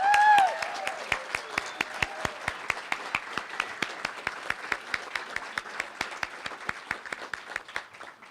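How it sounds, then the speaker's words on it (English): An audience at a dental hygiene pinning ceremony claps in a steady, evenly spaced rhythm of sharp claps that carries on at moderate loudness, with a brief voice heard at the very start. "So let's give them a round of applause."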